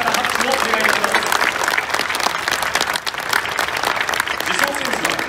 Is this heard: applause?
yes